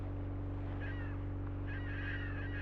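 Bird calls in a PlayStation bass and marlin fishing game, a few faint honking, goose-like cries rising over a steady loud hum of engine or water ambience.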